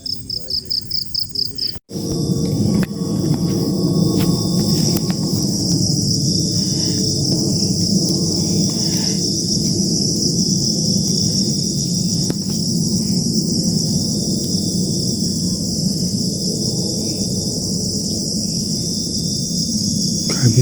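Crickets chirp steadily through a very dark night at a hillside shrine, a dense, continuous high trill that stays loud and unbroken for the whole stretch, with no voices over it.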